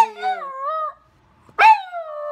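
A dog howls in two separate wavering, rising-and-falling phrases with a short silent gap between them, close and fairly loud, mimicking the Doctor Who theme tune.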